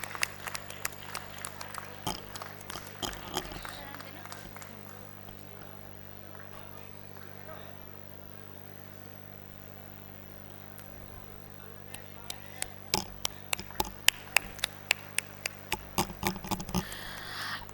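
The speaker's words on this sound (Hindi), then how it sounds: "तालियां बजा के इनका भी स्वागत कीजिए" Scattered clapping from a small group at an award ceremony at the New Delhi World Book Fair, a burst at the start, then a quiet lull, then claps return more sharply near the end.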